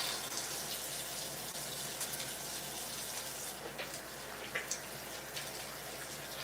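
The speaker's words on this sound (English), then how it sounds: "have warm water coming out this tap" Warm water runs steadily from an indoor tap, a constant soft gush with faint splashing and a few small clinks, alone and fairly quiet throughout.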